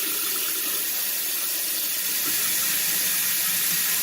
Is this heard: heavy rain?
no